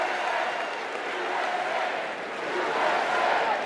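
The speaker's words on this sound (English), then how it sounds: "The USA chant takes on a whole different meaning" A dense arena crowd at the Democratic National Convention roars and chants USA steadily, a loud sustained wash of many voices with no pauses.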